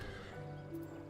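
A horse in a fishing video game gives a short whinny, fairly close and steady over a low in-game background hum, with no talking.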